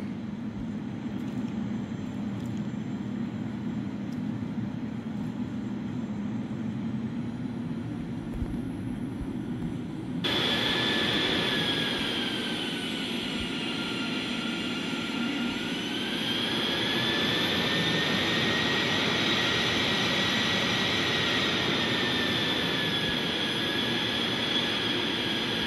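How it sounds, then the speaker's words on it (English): An airliner's jet engines roar into reverse thrust during landing rollout on arrival at KSMF, a steady broadband rush that swells louder partway through and holds with a rising whine, heard from the cockpit with no talk. "Gonna be hitting this reverse thrust pretty freaking hard here."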